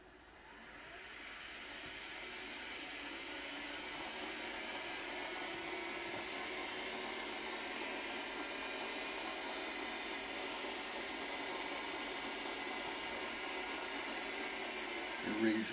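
A Tesla small drive unit electric motor under throttle on a test bench spools up to a steady whirring whine that holds for about fifteen seconds. It is fairly faint and ends with a small bump.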